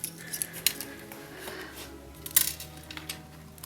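Sharp scissors snipping through corrugated cardboard for a Valentine mini journal, a few crisp clicks and cuts, close up and otherwise quiet.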